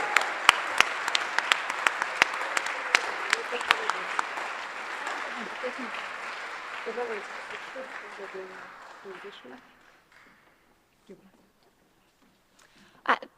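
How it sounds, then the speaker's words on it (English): An audience applauds scholars at a ceremony, a dense burst of clapping with sharp individual claps that gradually thins and fades out over several seconds, with a few stray claps at the end. "Another round of applause for our scholars."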